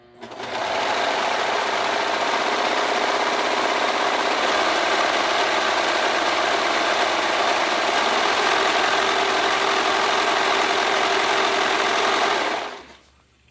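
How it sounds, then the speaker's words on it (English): A serger overlocker runs steadily, stitching pieces of skirt fabric together in one continuous buzzing whir that holds nearly constant for about twelve seconds before cutting off. "we're going to serge everything together at once so then I can move my serger out the way"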